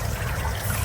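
Irrigation water flows into a farm field with a continuous, close gurgling rush, brief and steady, with no voices.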